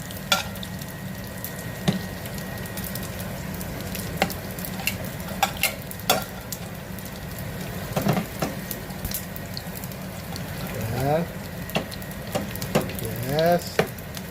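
Dried boneless danggit fish fries in hot oil with a constant crackling sizzle, broken by scattered pops and utensil scrapes as it is stirred. A voice can be heard faintly near the end.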